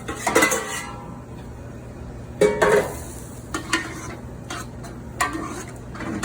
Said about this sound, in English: And then slowly reintroduce your cubed beef.